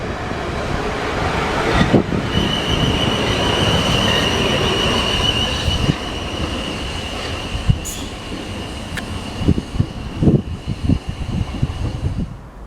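A Class 450 South Western Railway train passes at Barnes with a loud, sustained roar of wheels on rail, thin wheel squeal above it and a few clattering knocks toward the end.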